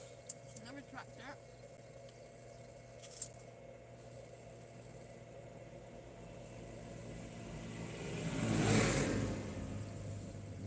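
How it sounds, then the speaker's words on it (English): A tractor engine passes, its rumble swelling to a loud peak near the end before easing off, over a steady low background hum. "Another tractor."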